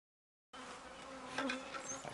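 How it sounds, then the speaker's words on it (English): Steady, dense buzzing of many honeybees around a hive with a laying worker, close by, starting abruptly after a moment of silence and swelling slightly with darting wing sounds. "Step back over here so the bees would leave that microphone alone."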